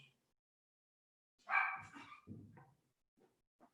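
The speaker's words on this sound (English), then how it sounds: "If you hear some dogs going crazy, it's because my dogs are close." A single distant dog bark rings out in near silence, followed by a few faint, softer yips trailing off.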